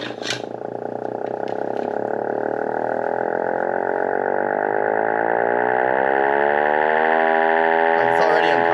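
A Los Angeles siren winds up loudly, its wailing tone climbing steadily and growing louder over several seconds into a piercing, sustained howl, close by and alone.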